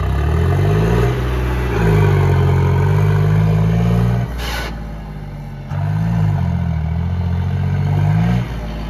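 A loud, close tractor engine runs steadily with a deep rumbling drone during a stunt in river water, briefly dropping in pitch midway before rising again. No one speaks.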